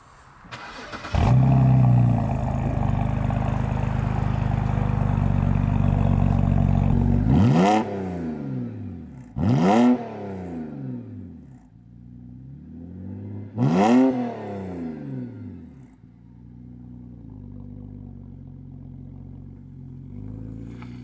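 A BMW 128i engine cold-starts with a muffler delete, cranking and firing into a loud, raspy idle, then several sharp throttle blips roar up and fall back before settling into a rumbling idle.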